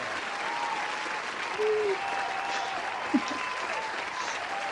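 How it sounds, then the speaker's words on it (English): An audience gives a round of applause at a National Signing Day event for marching band students, a steady even patter of many hands with a few faint voices and brief tones mixed in. "Let me give you a nice round of applause there."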